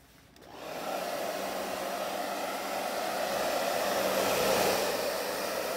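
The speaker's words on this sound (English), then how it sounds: "And then I'm going to hit this with the blow dryer." A hair dryer switches on and blows with a steady, loud whooshing hum that continues without interruption.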